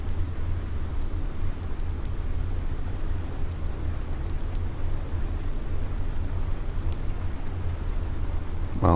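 Rain in Farming Simulator 19, a steady dense downpour hissing on surfaces with a low rumbling undertone of thunder throughout, no voices.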